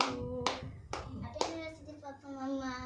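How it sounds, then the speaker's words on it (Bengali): A few sharp hand claps at a family anniversary cake-cutting, three or four separate claps spaced about half a second apart, mixed with a voice and other speech. "হাততালি দাও"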